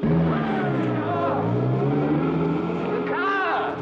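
Car pulling away with an engine note that rises and shifts, heard close under continuous overlapping talk and shouting, with a rising whine near the end.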